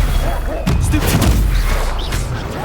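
Spell-casting impact in the Hogwarts Legacy video game, Stupefy being cast during a wizard duel: a loud burst with a hard thump and crackling boom, surrounded by dense layered battle effects and shouted incantations.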